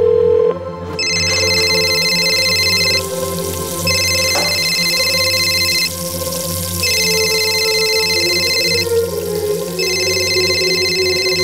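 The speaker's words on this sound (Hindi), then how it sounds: "फोन उठा लो" Indoor telephone rings in four evenly spaced electronic bursts of about two seconds each over a low steady hum, loud and near.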